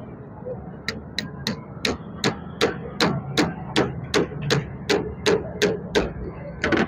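A screwdriver hammered into a padlock to force it open: about fifteen sharp, evenly spaced metallic strikes in a steady rhythm, close and loud, over low background rumble with no talking.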